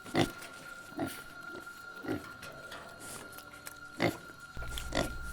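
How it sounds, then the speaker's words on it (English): Pigs grunt and snort in short bursts roughly every second, moderately close, over a steady hum, with one louder grunt near the end, heard in the middle of a town. "I heard what I thought was the sound of pigs"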